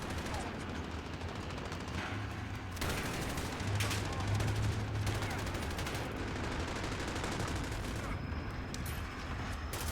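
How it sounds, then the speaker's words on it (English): Rapid gunfire crackles through a Call of Duty Modern Warfare match, dense sustained bursts of shots over about ten seconds with brief gaps, moderately loud, with a voice faintly under it. "I'm just gonna shoot."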